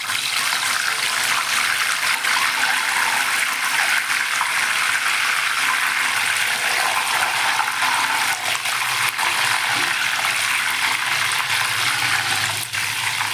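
Water sprinkled into hot oil with frying banana chips sets off a loud, steady hiss and crackle that runs unbroken for over ten seconds, close to the pan.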